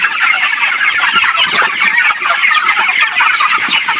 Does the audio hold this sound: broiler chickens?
yes